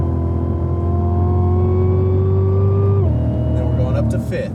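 A race car on track holds a loud, steady engine drone, then its pitch drops sharply as it shifts up into fifth gear and pulls on down the straight, with the driver talking over it.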